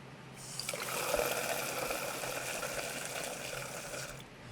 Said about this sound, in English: So we got this water tap flow siphon.